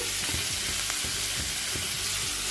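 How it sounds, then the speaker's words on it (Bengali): Capsicum and tomato fry in a pan over medium heat with salt, giving a continuous close sizzle with soft scraping stirs scattered throughout and no voices. "আঁচটা মিডিয়াম রেখে এটাকে ভাজতে হবে"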